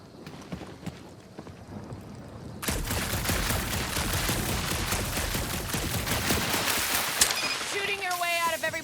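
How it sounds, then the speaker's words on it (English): Sustained gunfire from the Guardians of the Galaxy video game, with dense, rapid shots running continuously under a busy mix of other game noise. "Shooting your way out of every problem again, Peter?"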